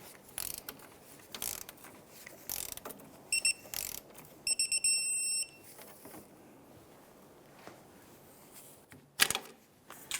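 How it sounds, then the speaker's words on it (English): A torque wrench tightens the tie rod adjuster clamp bolt to 30 foot-pounds on a 1999-2004 Jeep Grand Cherokee. Short bursts of close metallic ratchet clicking are broken by clear electronic beeps, with faint workshop clatter and no talk. "Go ahead and torque this down to 30 foot-pounds."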